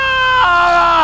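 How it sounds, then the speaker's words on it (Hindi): A single piercing scream in a horror story, loud and close, holds a shrill sustained pitch for about a second with a sharp break partway through. "सन्नाटे को चीरती हुई एक चीख"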